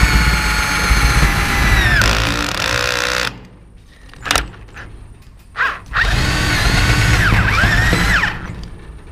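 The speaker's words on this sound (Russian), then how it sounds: "сверлим и вкручиваем шуруп одновременно." A power drill drives a screw into a profiled steel sheet fence panel, running loud and steady for about three seconds, pausing with a few brief knocks, then whirring again for several more seconds as the screw seats.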